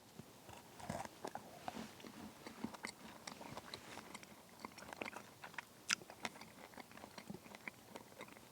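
Bites and chewing on a hard mocha cream Keto Brick meal bar, a run of sharp crunchy snaps and gnawing close to the mic, with no voices.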